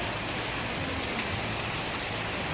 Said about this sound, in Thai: ตอนนี้ฝนตกมาหนักครับ